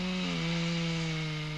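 Chainsaw engine runs at a steady, droning pitch throughout, close and continuous while cutting a tree during felling work, as shown in 1985 Swedish forestry training footage.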